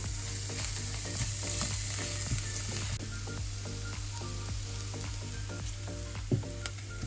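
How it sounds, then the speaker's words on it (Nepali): Garlic and onion fry in a pan for a fish curry with mustard, a steady close sizzle with intermittent scraping stirs, no talk. "यो दुईटै राखेर फेरि एकछिन अलिक रातो हुने गरी भुट्नुपर्छ।"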